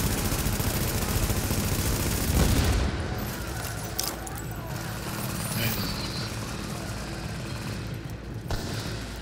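Gunfire in the video game The Division at the Lexington Event Center: bursts of shots and booms crackle over a noisy firefight, loudest around the second and third seconds, with a voice talking over it.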